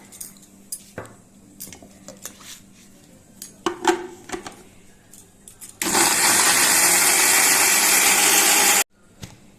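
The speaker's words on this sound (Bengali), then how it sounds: "এইবার আমি এর মধ্যে টমেটোটা বাটবো একটু জল দিয়ে নিচ্ছি" A mixer grinder whirs loudly and steadily for about three seconds, grinding tomatoes with a little water, after a stretch of kitchen clatter and light handling noises, then stops abruptly.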